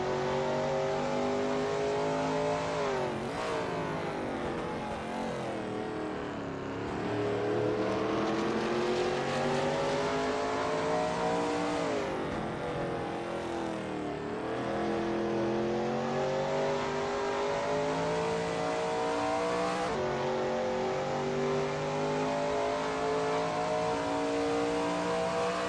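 Simulated Shelby Mustang GT350R V8 at Blackwood on a racing-sim out lap, engine droning steadily and loudly throughout, with revs climbing through the gears and sharp drops on each upshift or lift while the car warms its tires.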